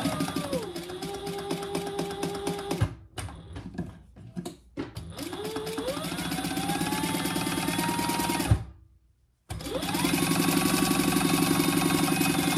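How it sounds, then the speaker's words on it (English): A sewing machine runs in long steady bursts as it stitches down the long unfolded edge of a fabric laptop or iPad case. It stops briefly in the middle, then starts again, loud and close, with no talk over it. "We're going to sew down the long non-folded edge"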